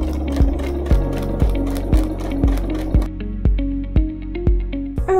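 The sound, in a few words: sewing machine stitching a straight stitch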